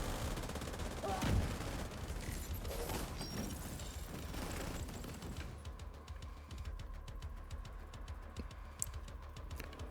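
Rapid video game gunfire rattles away at targets, dense loud bursts that later thin out, with keyboard clicks and faint speech underneath.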